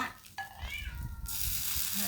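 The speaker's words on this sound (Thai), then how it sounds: "น้องแมวสามขา" A three-legged cat meows twice with rising, tonal cries in a home kitchen, while a sizzling hiss from a khanom khrok pan on the stove rises and fills the background.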